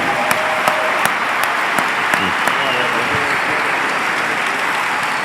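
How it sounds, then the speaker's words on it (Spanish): At a pastors' panel, a congregation gives a strong round of applause to two honored guests, a full, steady roar of clapping with a few sharper claps standing out, sustained without a break. "les pido que les demos un fuerte aplauso aquí a Satirio y a Abe"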